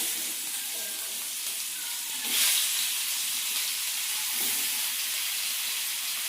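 Fish frying in oil on a tawa griddle, a steady close sizzle and hiss that swells briefly as pieces are moved, with no talking.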